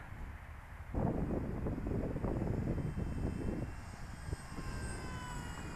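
A Dynam F4U Corsair RC model airplane flies on its maiden flight, its faint electric whine drifting overhead beneath heavy gusts of wind buffeting the microphone outdoors.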